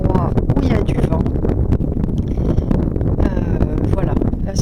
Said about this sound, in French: il se trouve que je suis tout le temps dans des endroits où il y a du vent